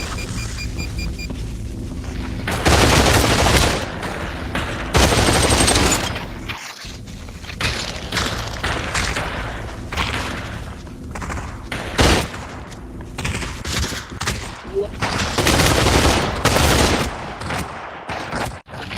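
Gunfire in a Quest 2 VR shooter game, loud bursts of rapid automatic fire and single shots coming in clusters over nearly twenty seconds, with other game effects between volleys.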